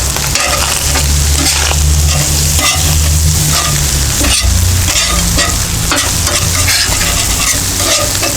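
Cheesesteak meat and onions fry loudly on a Blackstone griddle, a dense continuous sizzle with steady scraping and stirring of a spatula across the flat-top.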